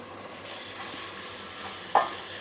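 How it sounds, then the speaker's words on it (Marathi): Basmati rice is sautéed with prawn masala for a Koli-style prawn rice, heard as a soft, close sizzle with scraping stir strokes and a sharp utensil clink near the end, with no talking. "आता हे सुद्धा आपल्याला परतून घ्यायचे आहेत तांदूळ"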